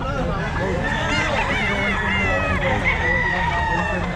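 Roosters crowing and chickens clucking at a pet market, several birds calling one over another at close range above a constant murmur of crowd voices.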